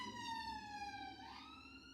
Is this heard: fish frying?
no